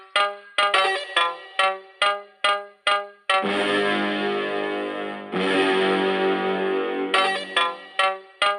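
A phone ringtone plays loud and close: short repeated electronic bursts, then a long sustained distorted tone, then the quick bursts return.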